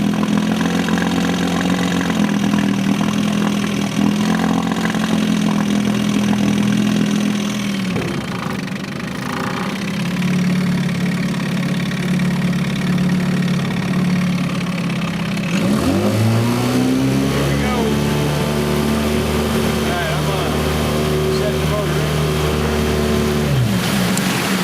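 An Evinrude 4hp Excel outboard motor idling in neutral on the water while running slightly lean, a steady close mechanical drone that dips briefly and then climbs back in pitch, with no talking.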